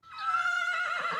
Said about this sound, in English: But there's more to a horse whinny than meets the ear.